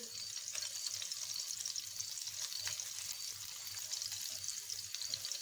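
Chicken Manchurian pieces frying on high flame give a steady, fairly soft bright sizzle with a faint low bubbling underneath, continuous and without talk.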